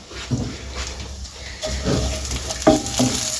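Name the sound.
onions and fenugreek frying in a pan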